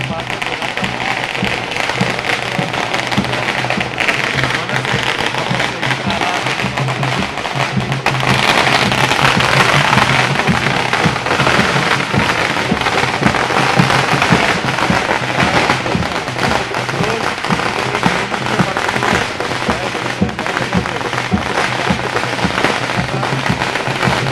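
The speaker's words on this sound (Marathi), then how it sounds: "ठाण्यामध्ये हा मोठ्या प्रमाणात जल्लोष फटाके वाजून" Firecrackers burst at a crowded street celebration in Thane, a steady dense crackle of pops running the whole time under a noisy crowd, with people talking throughout.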